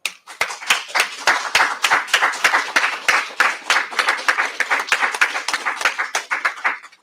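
Rapid, dense handclapping from a small group at a press conference on a crime case, close and steady for several seconds before tapering off, with no one speaking over it.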